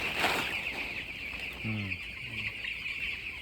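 Broiler chickens in a brooder shed cluck softly a few times over a steady background hum, the short calls close by and fairly quiet.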